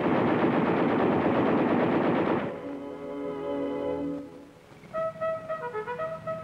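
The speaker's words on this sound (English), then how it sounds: "A computerized fire control system brings the full fury of the tank's guns on any target" A long, continuous burst of heavy machine gun fire from an M-60 Patton tank for about two and a half seconds. It cuts off and a sustained tonal sound with steady layered pitches takes over.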